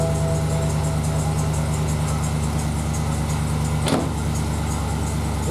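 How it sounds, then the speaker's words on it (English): A BMW 645ci/650i engine idling with a steady, low, even hum close by, broken by a single sharp click or thump near the end. "So I'm going to start the car up."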